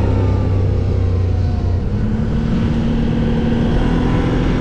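A CF Moto ATV engine drones loud and close while riding, a steady low rumble with a slight pitch change partway through and constant wind and road roar.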